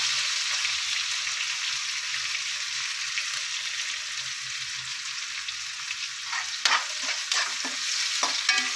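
Ingredients for a salted chicken curry sauté in a hot pan with a dense, steady sizzle, joined near the end by a few louder clanks and scrapes as they are stirred.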